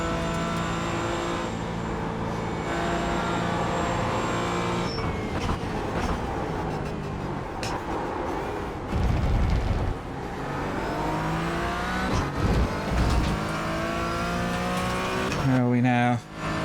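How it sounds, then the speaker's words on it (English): Porsche GT4 race car engine in a racing video game, revving and shifting continuously with rising and falling pitch, moderately loud while a voice talks over it. "I do like driving this Porsche though."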